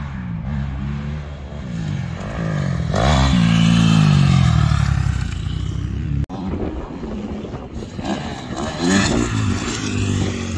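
Motorbike engine revving and surging while riding over dirt jumps, loud and close, rising and falling with throttle, a brief cut midway, then more revving.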